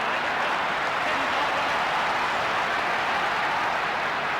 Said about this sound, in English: Crowd getting into the contest at the moment.